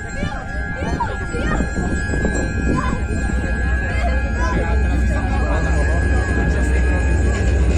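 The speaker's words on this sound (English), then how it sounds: "this is what happens when the PC-7 reaches its minimum flying speed. It drops into a spin." A Pilatus PC-7 of the Swiss PC-7 Team drops into a spin at the NATO Days 2023 airshow, its propeller engine a continuous droning roar that swells slightly, heard beneath a loudspeaker announcer talking.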